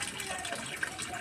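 Water gushing and splashing steadily as a young child washes clothes at home, a continuous close rush of running water with soft voices faintly underneath.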